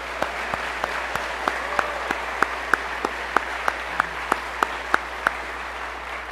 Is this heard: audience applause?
yes